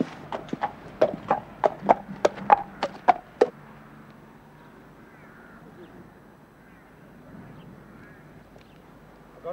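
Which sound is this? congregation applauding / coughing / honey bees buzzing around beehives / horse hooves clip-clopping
horse hooves clip-clopping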